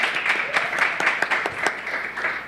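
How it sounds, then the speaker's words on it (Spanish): A short burst of applause for Pastor Miguel Collazo of the Fuente de Agua Viva church in Coamo, with dense, steady clapping and a few sharper claps over the crowd noise. "Un fuerte aplauso para el pastor."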